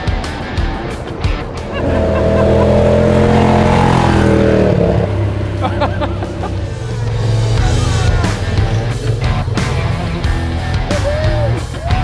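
A modified turbocharged UTV blasts past during an off-road race in Baja, its engine roaring loud and close, sweeping in pitch as it passes, then fading into rough rumbling and wind noise.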